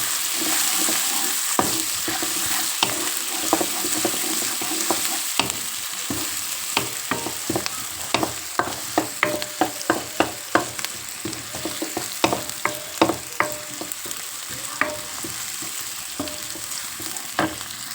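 Moong dal and egg curry frying in a pan, with steady sizzling broken by frequent sharp pops and spatters, loud and close, with a stirring texture and no talk.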